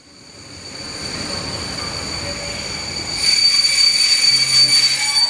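Passenger train arriving at Zakopane as a sound effect, a steady rumbling rail roll with high squealing wheel tones that swell louder partway through, no voices.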